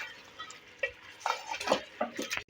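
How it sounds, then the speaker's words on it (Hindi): Beef for nihari is browned (bhuna) in a pot: a spoon scrapes and clinks against the metal in uneven bursts over a faint background sizzle, close up, with no talking. "अब इसको अच्छी तरह हम भूनते हैं"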